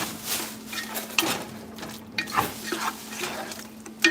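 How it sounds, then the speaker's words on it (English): Meat browns and sizzles in a hot pan while a utensil stirs it, with steady frying crackle and repeated scraping and clinking strokes against the pan across a few seconds. "I'm gonna turn my heat up now and I'm gonna stir, stir, stir. Let my meats brown on all sides."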